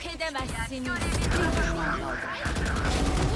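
Valorant gunfire, rapid shots rattling under and between excited voices talking over game sounds, loud and close throughout.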